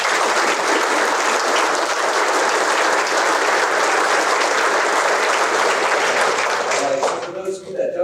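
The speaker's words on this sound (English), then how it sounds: "Please round of applause for all of our attendees." Sustained, dense applause from an audience at an undergraduate pilot training graduation at Vance Air Force Base, loud and even for about seven seconds before fading as a voice starts speaking.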